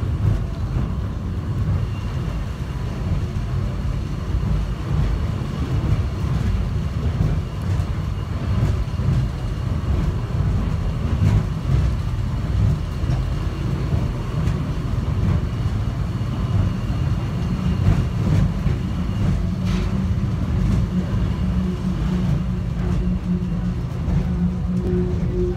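Steady low rumble of a subway train riding toward Terminal A in late January, a continuous loud rolling drone with no speech over it.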